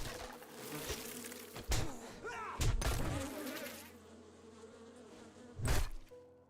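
Bees buzzing in the survival game 7 Days to Die, a steady swarming drone broken by several heavy thumps and hits, loud and continuous with no speech.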